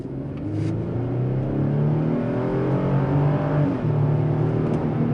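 A Chevrolet Colorado pickup truck with a 312-horsepower engine accelerates hard, its engine note droning steadily and loud with rising harmonic tones throughout, no talk over it.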